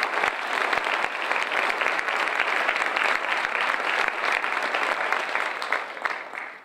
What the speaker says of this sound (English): So a round of applause for Mr. Ken Colboy.